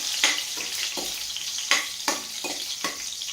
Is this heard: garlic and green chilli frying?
yes